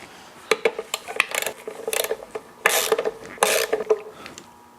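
A ratchet wrench clicks as it backs a 10 mm nut off the rear of a small dampener on a Porsche 911 3.2 Carrera, in quick uneven bursts of ratcheting and scraping metal, close and alone.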